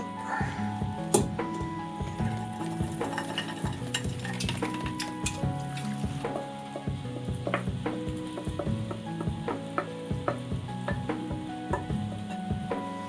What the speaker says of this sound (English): You have to keep it moving, stop it burning on the base of the pan.